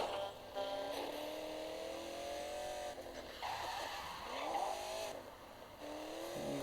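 Car tires skid and engines rev during reckless driving in Gangstar Vegas, with repeated squealing sweeps and rising engine tones over a steady, moderately loud game soundscape, alone without voices.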